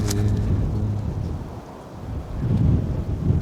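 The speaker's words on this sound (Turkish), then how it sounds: "Üşüdüm burada, çok rüzgar var." Gusty wind on a mountainside walk near Dikili buffets the microphone in low rumbling bursts, easing in the middle and rising again toward the end.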